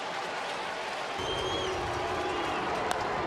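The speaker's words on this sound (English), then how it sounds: "Good reason for them to get up and cheer" Crowd noise swells at a Cincinnati Reds baseball game as fans rise and cheer, a dense roar of voices that grows louder after the first second and holds steady at a distance.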